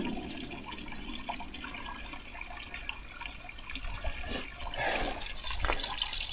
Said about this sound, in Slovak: taký čistý prameň sa nachádza s vodou